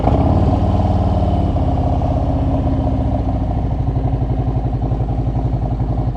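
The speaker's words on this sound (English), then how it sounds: "let me start the bike up so that you can hear it" A motorcycle engine fires up and settles into a loud, steady running rumble with a regular pulsing beat, close by and continuous throughout, with no talking.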